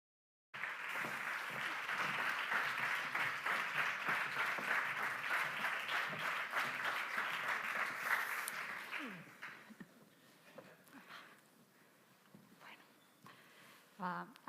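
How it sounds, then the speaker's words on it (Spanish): An audience at a literary conversation at the Azkuna Centre welcomes the guests with warm, sustained applause from many hands. The applause holds for about eight seconds, then tapers off into quiet room noise and small shuffles. "Les recibimos con un aplauso"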